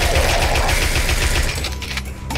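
Rapid bursts of incendiary bullet fire in the video game Tesla vs Lovecraft, loud continuous automatic gunfire rattling close and dense, easing off toward the end.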